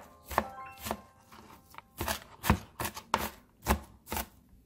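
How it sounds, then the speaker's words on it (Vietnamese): A knife mincing shallots on a cutting board, a steady run of about a dozen sharp, close chops at an even, slightly uneven rhythm, moderately loud with no talking. "Hành tím các bạn băm nhỏ."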